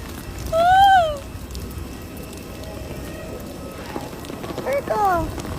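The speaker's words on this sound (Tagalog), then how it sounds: "Guys, ang ulan sa Palawan!" Steady rain pours down in Palawan, a dense, close hiss of drops on surfaces that runs through the whole stretch, with a couple of high, gliding vocal exclamations rising above it.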